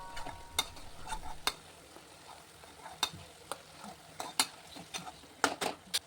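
Chopped onion and garlic sauté in a pan for a whole masoor curry, a soft continuous sizzle broken by sharp clicks and scrapes of a spoon stirring against the pan at an irregular pace.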